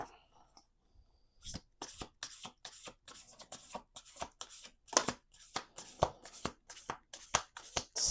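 Close, crisp riffles of a card deck being shuffled, bursts of rapid flicking repeating in a quick uneven rhythm with faint whispering between.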